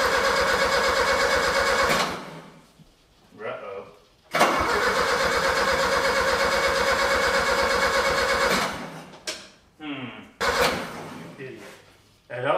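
A Yale forklift engine, just after distributor repair, cranks in two long mechanical bursts and then several shorter attempts, loud and close, with a voice speaking in the pauses.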